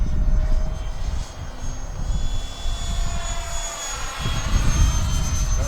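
An FF-Viper-50 model jet plane's engine runs at about half throttle in high wind, giving a loud, steady roaring whine with a faint high tone that rises and falls slightly, heard alone and close by.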